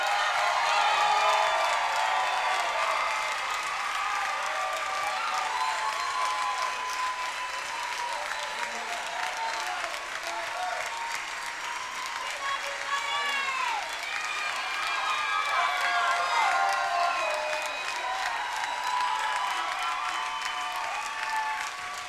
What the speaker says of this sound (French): On les applaudit très fort, s'il vous plaît.